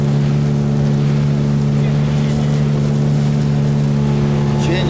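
A motorboat driven by a Suzuki outboard motor runs on a Siberian taiga river, its engine droning in a loud, steady hum close by with water and wind noise around it.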